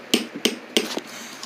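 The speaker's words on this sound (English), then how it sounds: "More hammer down all these nails." Three sharp hammer blows strike nails in quick succession, close and loud, each with a bright metallic ring, followed by lighter knocks and handling noise.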